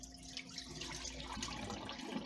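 Water drains off about two cups of rice in a steady, close splashing pour that runs unbroken, with no talking over it.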